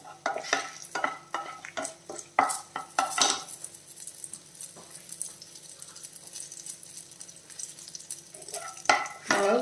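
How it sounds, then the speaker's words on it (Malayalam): Dried red chillies fry in hot oil with a steady sizzle while a utensil scrapes and stirs the pan in clustered clinks, close and clear, with no talking. "ഒരു അഞ്ചാറ് വറ്റൽമുളക് ചേർത്ത് കൊടുക്കുകയാണേ"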